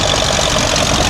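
A small grey Ferguson tractor at a vintage rally and tractor event in South Gloucestershire runs steadily nearby, its engine a loud, even chugging drone with no voices.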